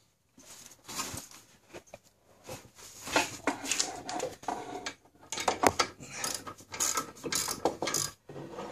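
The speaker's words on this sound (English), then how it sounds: "We've already loosened our bolts, our caliper retaining bolts, and we'll take them off." Ratchet removing the caliper retaining bolts on a car's front brakes, giving bursts of quick clicking pawl ticks in irregular runs with short pauses, close and fairly soft.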